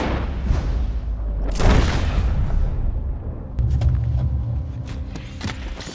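A gunshot in the video game Red Dead Redemption 2: a heavy, booming report with a long rumbling tail, followed by lower rumble and small clicks and clatter.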